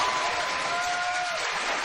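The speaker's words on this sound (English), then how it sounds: "Just applaud for that person you would vote for." A Tonight Show studio audience applauding to vote for a presidential candidate: steady, dense clapping from a large crowd that fills the whole brief moment.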